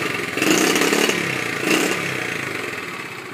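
A restored 1973 Honda CT70 Trail 70 minibike engine runs nearby, with a small-engine buzz that swells in two quick revs before settling back toward idle, alone without speech.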